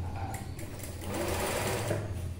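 A sewing machine stitching a semi patiala pant runs in a steady close whir with a low motor hum, picking up speed partway through, with no talking.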